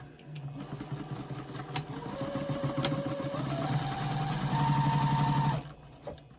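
A domestic sewing machine runs steadily while backstitching quilt binding, its rapid mechanical stitching rising slightly in pace midway before stopping abruptly near the end, fairly quiet and with no talking.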